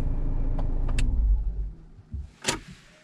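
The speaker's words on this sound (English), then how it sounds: "Shutting off the engine in 3 seconds." A Citroen C5 Aircross diesel SUV engine is switched off, its low idle rumble dying away after a second or so into quiet, followed by a couple of faint clicks from inside the cabin.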